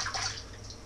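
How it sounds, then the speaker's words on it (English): Running water splashes from a tap as a hand is rinsed in a kitchen during cooking. The steady hiss and spatter is close and fairly loud and lasts under a second. "I'm just going to go rinse my hand off here."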